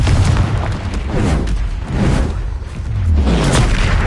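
The Confringo fire spell in the Hogwarts Legacy video game, a series of heavy booming blasts with whooshing rushes between them, loud and close, swelling and fading roughly every second and a half.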